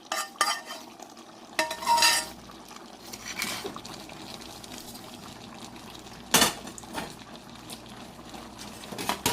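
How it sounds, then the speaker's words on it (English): Plantain and stockfish porridge being stirred in a pot, with a spoon scraping and clinking against the sides in irregular strokes, some louder bursts of stirring over a soft simmer throughout. "You want to turn everything together, stir everything to combine."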